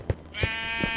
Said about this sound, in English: I can't get these sheep free.